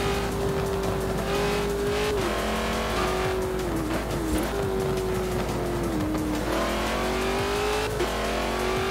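Car racing in Forza Horizon 4 during an online meetup: a steady, loud engine drone with shifting pitch, gear changes and tire squeal running throughout.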